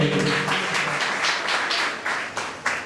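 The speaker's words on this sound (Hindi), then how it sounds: "पास्टर मोहन जी के लिए, उनके परिवार के लिए जोर से तालियां बजाएंगे" A congregation at a wedding gathering claps for Pastor Mohan and his family, with steady, fairly loud, rhythmic hand claps over roughly three seconds and a faint voice at the start.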